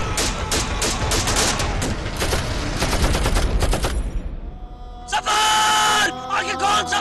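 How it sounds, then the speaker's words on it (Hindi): Sudden indiscriminate gunfire from all sides during a battle re-enactment, dense rapid bursts of shots at loud level, then a pause and another sharp volley with shouting voices. "अचानक चारों तरफ से अंधाधुंध फायर शुरू हो जाता है"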